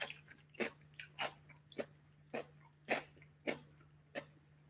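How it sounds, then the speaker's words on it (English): Crisp crunching bites while eating a chicken and egg rice bowl with glazed onion over soft rice, roughly eight sharp crunches in an uneven chewing rhythm, close and fairly quiet, with no talking. "I feel like that was a loud crunch."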